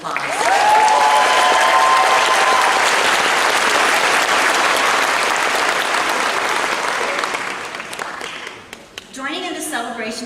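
A big crowd at a university graduation ceremony bursts into loud, sustained applause that gradually thins out, with a voice speaking over the tail.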